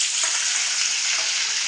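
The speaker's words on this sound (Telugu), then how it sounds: "ఇప్పుడు ఆయిల్ అయితే వేడైంది, ఆనియన్స్ వేసుకుందాం." Onions dropped into hot oil in a pan sizzle and fry steadily for a paneer biryani, a loud, close, continuous hiss with no voices.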